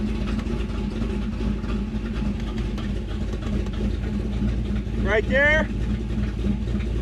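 A small-block V8 in a Chevrolet Malibu idles during street tuning. The low, steady rumble runs throughout under a brief spoken comment, and a short squeaky chirp cuts in near the end.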